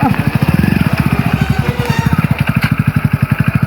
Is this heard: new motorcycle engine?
yes